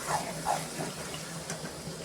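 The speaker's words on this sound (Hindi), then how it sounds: "अभी मैं ऐड कर देंगे थोड़ा सा गर्म पानी ऐड कर देंगे।" Hot water being poured into a pot of mutton fat curry in a village-style kitchen, a short gushing, splashing pour with a couple of brief surges.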